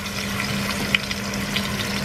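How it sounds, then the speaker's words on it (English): Beef short ribs sear in a hot 50-50 mix of vegetable and olive oil, giving a steady, close frying hiss with small pops and no speech. "You need that sizzle."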